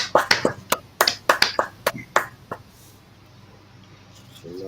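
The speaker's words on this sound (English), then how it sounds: "Clap it up." A short round of sharp handclaps, several quick claps close by that thin out and stop, leaving a quiet room with faint background noise.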